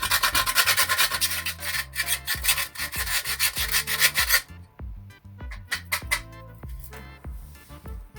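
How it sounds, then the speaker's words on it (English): Whole nutmeg rubbed against a metal grater for oatmeal porridge, a close, loud rasping scrape repeated in quick back-and-forth strokes, heavier at first and then lighter and more sparse, with no voice. "I'm going to put a nutmeg, guys. Let me get a grater."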